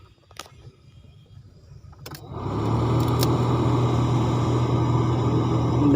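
Renault Duster AC blower motor starting up after a few faint clicks, rising quickly into a loud, steady whirring hum with a persistent low drone that holds evenly to the end.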